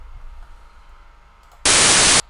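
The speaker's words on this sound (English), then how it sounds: "It sounds like noise if I listen to it." A burst of loud hissing white noise starts suddenly after quiet low background hum, lasts about half a second, then cuts off.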